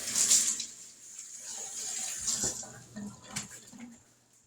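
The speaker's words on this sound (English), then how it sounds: "Let me wash this off my hands." Hands being rinsed under a running tap in a kitchen while making pulled pork: a steady splash and hiss of water, fairly close and moderately quiet, tapering off toward the end.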